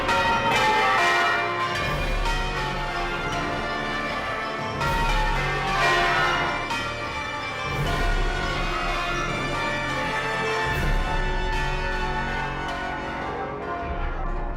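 Church bells ringing continuously in a full, overlapping peal, loud and resonant throughout with strokes layering over one another.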